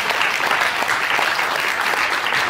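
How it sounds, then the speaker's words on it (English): An audience at a church sermon on a Cambodian orphanage ministry breaks into sustained applause. The clapping is dense and steady, at an even level throughout, and no one speaks over it. "Give a lot of clap."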